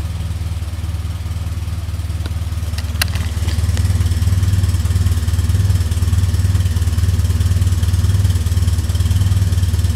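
A 1970 Morris Minor with its 1098cc engine running on a cold day, idling steadily with a low, even rumble and a faint mechanical clatter throughout, close and alone.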